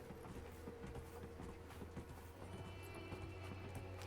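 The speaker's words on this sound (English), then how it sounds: "The horses are also so slow in this game." Horse hooves clip-clop steadily in the Dragon Age video game, a faint, continuous rhythmic clatter under a dense low rumble of game sound, with no talking.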